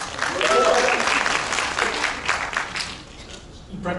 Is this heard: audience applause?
yes